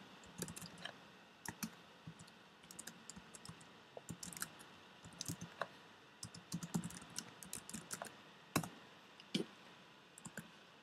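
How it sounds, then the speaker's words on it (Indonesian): Commands are typed on a computer keyboard to configure an Ethernet card, a close, fairly quiet run of irregular key clicks and taps in bursts with short pauses, no voices. "Langkah pertama yang perlu kita lakukan adalah melakukan konfigurasi Ethernet card dengan mengetikkan perintah."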